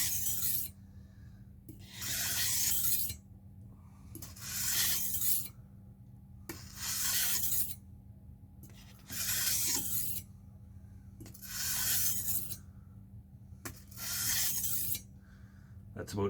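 A kitchen knife is drawn across a wet 1000 grit whetstone in six long, evenly spaced rasping strokes. Each stroke lasts about a second, quiet gaps separate them, and a steady low hum runs underneath.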